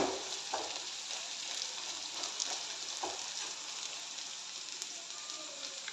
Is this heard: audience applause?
no